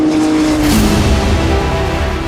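A Porsche GT3R race car roars past at close range, a loud continuous engine blare with a brief rising surge and dense road noise.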